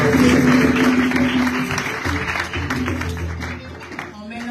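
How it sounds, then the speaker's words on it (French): Church youth service congregation cheering and clapping in a dense, continuous wash of crowd noise, with sustained tones and voices mixed in throughout, loud and close. "Quand elle va passer devant, encourage-la avec des acclamations."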